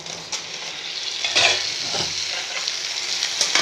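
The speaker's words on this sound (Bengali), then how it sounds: "পটল দিয়ে ভালো করে 2 মিনিট ভেজে নেব।" Cubed potatoes and pointed gourd fry together in oil, a continuous close sizzle punctuated by spatula scrapes and light knocks against the pan, with no one talking.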